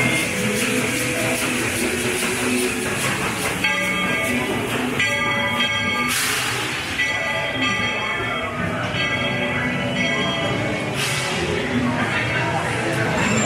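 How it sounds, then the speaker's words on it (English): A train ride at Magic Kingdom theme park rumbles along steadily with bright bell-like chimes ringing at intervals and crowd chatter mixed in throughout. "We're here at Magic Kingdom to ride the train."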